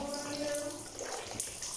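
Water runs steadily from a tap into a basin or tub at home, a faint continuous splashing trickle with a soft tonal hum early on and a brief clatter near the end.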